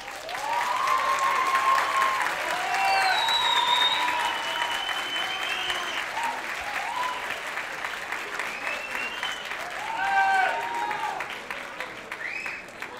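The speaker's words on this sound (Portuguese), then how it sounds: "vocês já vão saudá-la com uma bela salva de palmas" An audience applauds a law professor at a mock trial event at a law school, sustained clapping under crowd murmur and scattered voices, loud and steady with a swell near the end.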